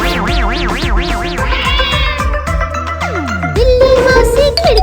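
A cartoon cat meows in a melodic, sing-song way within a children's rhyme, with bright musical tones and a swooping, sliding cartoon sound effect near the end.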